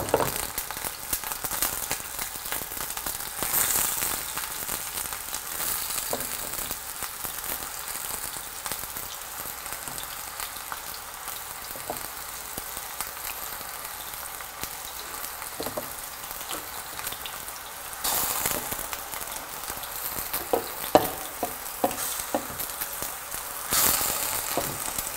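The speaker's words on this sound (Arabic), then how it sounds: "هنا، ما علينا الا نحركوا اللحم ديالنا" Meat sizzles and fries in a pot for a Moroccan prunes-and-meat dish, a continuous soft crackling hiss with occasional stirring scrapes, fairly quiet and steady, no talk.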